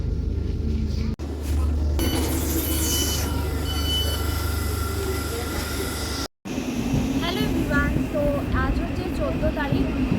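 A train running on rails in London produces a loud, steady rumble with brief cut-outs and high wheel squeals near the end, while voices talk over it.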